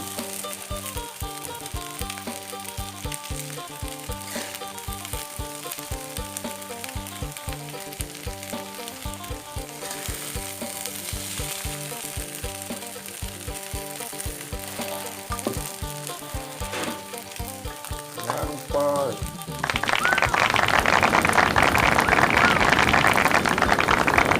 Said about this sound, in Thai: ครับทำข้าวผัดคะน้าครับใส่